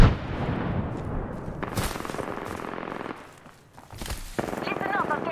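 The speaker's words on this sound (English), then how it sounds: "Listen up, I'm getting shot at." Rapid gunfire in the video game Apex Legends: loud bursts of automatic shots rattle for several seconds, briefly drop away, then resume, with a voice speaking over the firing.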